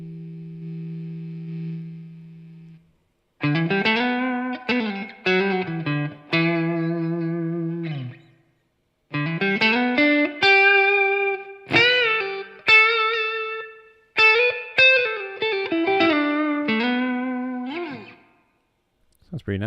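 Electric guitar through an amp modeler, notes and chords ringing out with spacious onboard reverb tails, played in phrases separated by short pauses.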